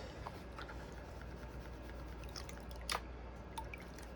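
Gold pan swirling Lake Superior black sand concentrate in water, soft wet sloshes, drips and gritty squishes, close and faint over a low steady background hum, no talking.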